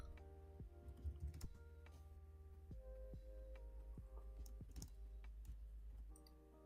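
Faint, irregular keystrokes from someone typing on a computer keyboard during an online game session, quick clicks scattered over a steady humming background with no talk.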